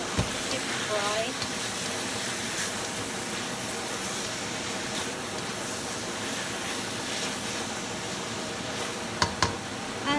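Pork belly frying in a pan for a winter roots casserole, giving a steady broadband sizzle and hiss that runs the whole time, with a few sharp pops near the end and faint talk underneath.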